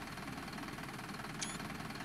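Simulated bus engine idling at night in the OMSI 2 bus simulator on route N14, a steady low rumble with faint knocking, continuous and unvarying with no voices.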